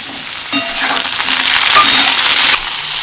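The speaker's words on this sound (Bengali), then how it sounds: "রসুন দেওয়ার পর আমি খুব ভালো করে ভেজে নিয়েছি" Garlic and chopped tomato hit hot oil over already-browned potato and onion, bursting into a loud, close sizzle with stirring that runs about two seconds before dropping back.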